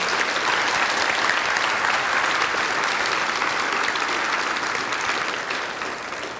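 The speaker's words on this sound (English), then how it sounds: "let's give these students a round of applause." Steady applause from a crowd at an elementary school fifth-grade graduation ceremony, many hands clapping at once, holding strong and then starting to fade toward the end.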